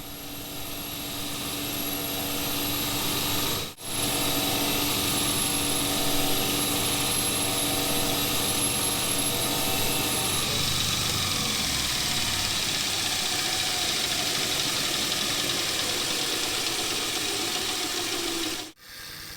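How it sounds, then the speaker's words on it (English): A wire wheel grinds leftover weld off a reclaimed steel tube, giving a loud, steady whirring roar with a high whine that runs nonstop for about nineteen seconds, dipping only briefly twice. "I'm grinding off the leftover weld."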